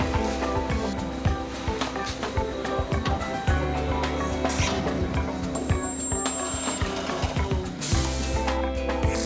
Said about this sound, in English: Position the cover plate and spot weld at the flanges.